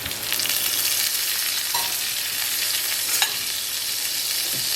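Butter sizzles steadily in a hot pan for Lyonnaise potatoes, a dense, even crackle with a couple of faint utensil taps, no voices.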